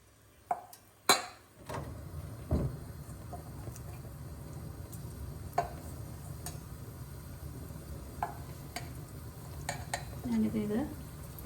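Paneer cubes dropped into hot sunflower oil sizzle steadily, with a few sharp clicks and clatters of a utensil against the pan near the start and scattered taps throughout.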